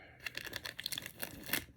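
Craft material being cut for a dove basket: a quick, uneven run of crisp snipping and rustling clicks close to the listener, with no speech over it.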